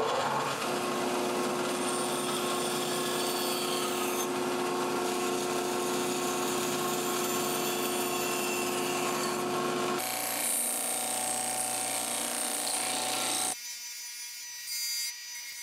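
A power sander runs continuously on a wooden jointed pikie minnow lure, a loud steady grinding whir that shifts in tone as the workpiece is pressed and rounded, then drops to a quieter hum.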